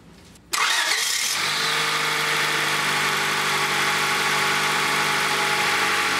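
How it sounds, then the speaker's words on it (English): A Honda car engine cranks briefly and catches, then settles into a steady, loud idle heard up close with no talking. "I'm going to start the vehicle up"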